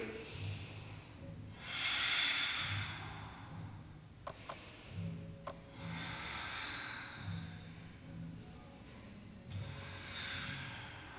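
Slow, deep breaths during a yoga back bend, soft airy inhales and exhales repeating in a calm rhythm, close and quiet, with a couple of brief clicks between breaths.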